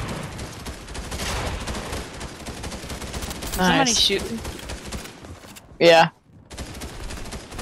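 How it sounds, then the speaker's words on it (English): Gunfire in the Fortnite video game, bursts of rapid shots crackling under ongoing talk, with a sharper, louder burst near the end; a voice speaks briefly. "Somebody shooting."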